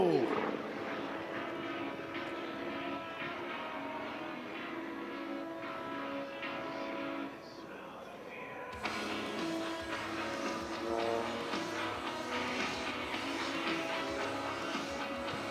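Aerobatic airplane with an R985 radial engine flies a slow roll at an air show, a steady droning engine roar heard from a distance, briefly dipping then swelling louder, with an announcer talking over it.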